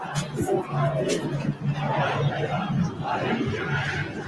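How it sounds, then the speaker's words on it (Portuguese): Football fans in a stadium chant and roar together, a dense crowd of raised voices with rhythmic swells and shouts, loud and surrounding. "No fundo do coração, ouve a torcida!"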